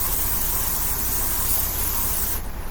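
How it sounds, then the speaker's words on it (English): A spray bottle hisses in one long, steady burst as it is sprayed around an apartment, loud and close, then cuts off abruptly near the end. "Spraying the apartment down."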